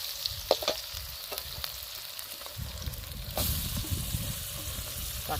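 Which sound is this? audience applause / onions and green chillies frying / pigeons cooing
onions and green chillies frying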